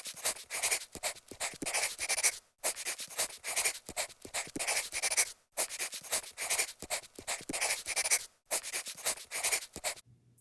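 Equations handwritten with a pen or marker, a rapid continuous scratching of strokes in long bursts separated by short pauses, close and fairly loud with no talking.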